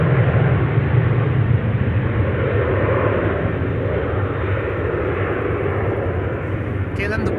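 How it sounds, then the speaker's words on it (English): A KLM airliner departs Amsterdam Schiphol Airport with a loud, continuous, rumbling jet roar that fills the whole stretch without a break. "KLM departure"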